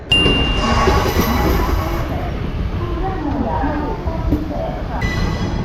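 A passenger train departing Mangalore Central station rumbles steadily with a low mechanical roar, a brief high whistle-like tone near the start and faint metallic squeals as it moves.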